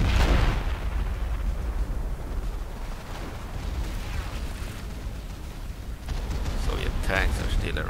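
Rumbling booms and blasts from an artillery gun firing in the Total War 1942 video game, with a heavy explosion at the start and later crackling impacts over a constant low battle roar.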